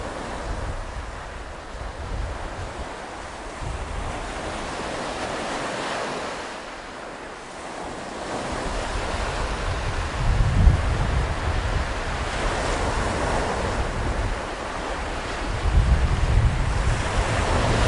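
Sea waves roll in at Digha beach, heard from a rooftop near the shore, a continuous surf roar with buffeting wind noise and swells that rise and fall every few seconds, no voices.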